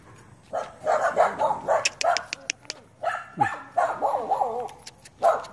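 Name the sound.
dogs barking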